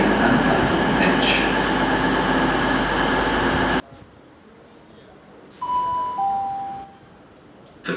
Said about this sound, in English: The train now approaching platform 2 doesn't stop here.